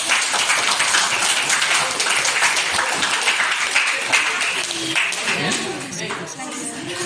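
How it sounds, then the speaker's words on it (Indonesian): Students and teacher in a school classroom clap their hands together in a dense, fairly loud burst of applause that carries on steadily before tapering slightly. "Bagus, tepuk tangan di dek."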